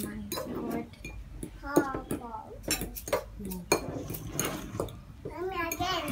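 Spicy noodles being stirred in a bowl, giving intermittent clinks of utensil against dish that run under near, overlapping chatter from an adult and a child.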